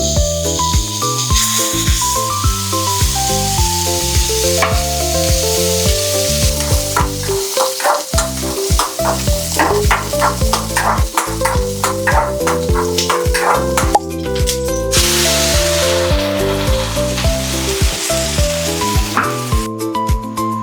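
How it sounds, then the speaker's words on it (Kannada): A fish cut into two pieces fries in a small pan, giving a continuous sizzle and hiss beneath steady tonal background music throughout. "ಒಂದು ಮೀನನ್ನು ನಾನು 2 ಭಾಗ ಮಾಡಿ ಸ್ವಲ್ಪ ಫ್ರೈ ಮಾಡೋಣ ಅಂತೇಳಿ ಇಬ್ಬರಿಗೆ"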